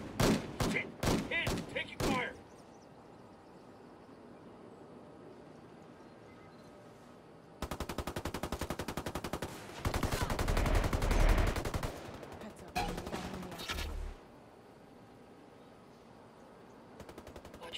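Gunfire in Ghost Recon Wildlands: a few sharp, loud single shots open, then a lull, then sustained rapid automatic fire builds into a dense, heavy burst before trailing off into quieter game ambience.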